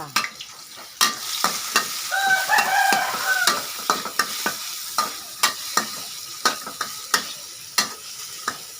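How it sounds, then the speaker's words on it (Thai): Garlic and mushrooms stir-frying in a pan for a Thai basil shrimp dish, a soft sizzle under repeated sharp scrapes and clacks of a utensil against the pan at an uneven rhythm, up close with no speech. "เดี๋ยวกระเทียมหอมก่อนเห็ดสุกก่อน กระเทียมเหลืองหน่อยนึงค่อยใส่กุ้ง"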